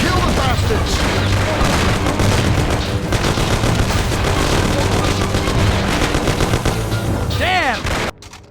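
Dense automatic gunfire and shots in a Mafia: The City of Lost Heaven shootout, loud and continuous for about eight seconds with shouting voices mixed in, cutting off abruptly near the end.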